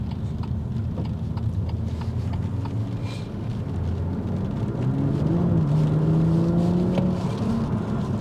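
BMW M240i car accelerating hard, a rising engine tone climbing through the gears with rhythmic road and engine pulses, building louder toward the end, heard from inside the car.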